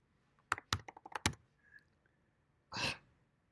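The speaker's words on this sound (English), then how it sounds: "I program so slow on this keyboard" Rapid typing on a computer keyboard in a quiet room, a burst of close, crisp key clicks followed by a pause and a breathy sigh.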